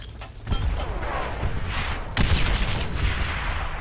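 A grenade explosion and gunfire in Call of Duty: World at War multiplayer, two heavy rumbling blasts with a dense roar of battle noise between them.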